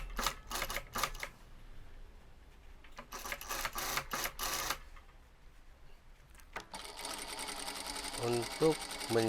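A sewing machine stitches a thick, stiffened shirt collar in short runs of rapid mechanical clatter broken by pauses, with a sustained run near the end, while a voice talks over it.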